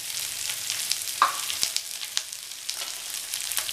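Green chili, onion and curry leaves sauté in hot oil, a gentle continuous sizzle broken by occasional spatula clicks and small crackles, heard alone without speech.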